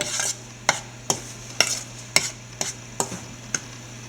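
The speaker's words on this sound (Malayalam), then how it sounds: "ആദ്യം ഡ്രൈ ആയിട്ടുള്ള എല്ലാം ഒരുമിച്ച് യോജിപ്പിക്കുക" Dry ingredients with salt for wheat bonda batter are mixed in a bowl, about eight evenly spaced scraping and tapping strokes of a spoon, close up, with no one speaking.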